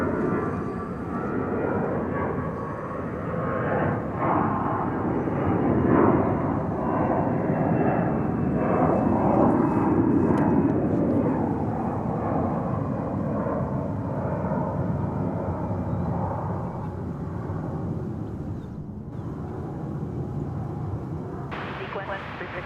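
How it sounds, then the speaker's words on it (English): A Boeing 787 Dreamliner jet takes off at DFW Airport, a loud continuous roar of engines that swells toward the middle and holds steady for over twenty seconds, with faint talk underneath. "Dreamliner flight to Cancun is also planned for takeoff"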